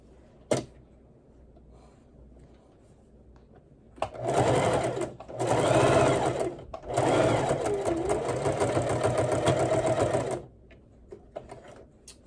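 A sewing machine stitches a T-shirt quilt, whirring loudly and close in two bursts of several seconds each with a brief pause between, framed by quiet handling clicks.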